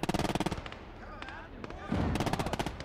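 Artillery and other weapons in the WWII strategy game Gates of Hell: Ostfront go off in quick rattling bursts with sharp reports, while a player talks in between.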